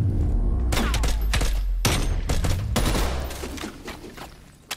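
Three-round burst rifle fire in Call of Duty Cold War, sharp grouped shots cracking out in several quick bursts over a steady background, fairly close and loud.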